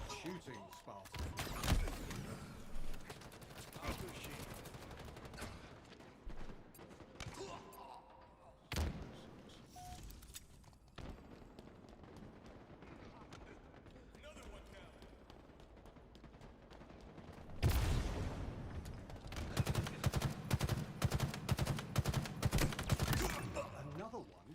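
Video game gunfire in a chaotic battle, with bursts of shots and impacts throughout and a dense, loud volley of rapid fire near the end over background game sound.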